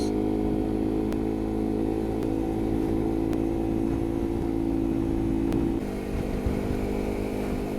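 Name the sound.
motorcycle engine accelerating on a ride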